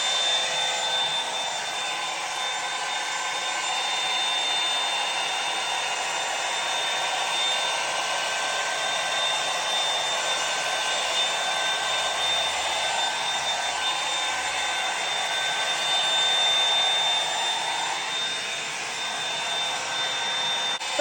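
A Hot Tools blow dry brush runs steadily as hair is smoothed and dried, a continuous loud whooshing airflow hum with slight shifts in pitch as the brush moves through sections.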